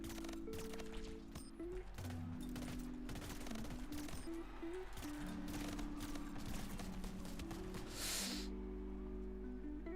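Rapid submachine gun fire in a FaZe Clan shooter match, dense and continuous bursts running nearly the whole time over steady game noise, with a brief bright hiss near the end.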